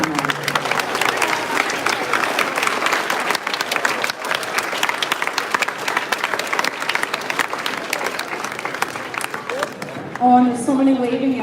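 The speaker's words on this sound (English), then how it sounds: "give your parents a round of applause" Eighth graders at a 2023 middle school graduation ceremony applaud their parents and families, a long, loud stretch of crowd clapping with scattered cheers, ending as a voice begins speaking.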